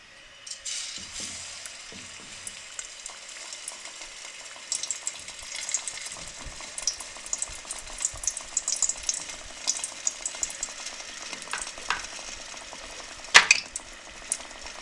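Potato cutlets coated in batter frying in hot cooking oil in a wok, giving a steady crackling sizzle with bursts of sharper spitting pops. There is no talk.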